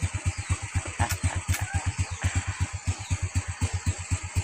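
A motorcycle engine runs steadily with a fast, even chugging pulse, close and continuous, with some wind noise over it.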